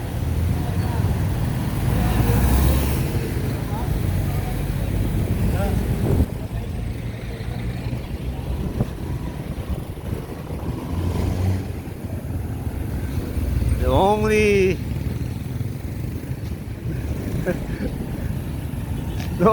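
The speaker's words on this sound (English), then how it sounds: "The only thing that I have to watch myself with is the traffic." Road traffic rumbles past continuously with vehicle noise rising and falling, including a louder pass early on and a horn-like tonal burst near the middle, while a voice talks over it.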